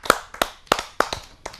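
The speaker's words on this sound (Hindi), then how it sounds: "आप सबकी जोरदार तालियों" A handful of sharp hand claps ring out at an uneven pace, close and distinct, as an audience at a Hindi poetry gathering welcomes a poet to the stage.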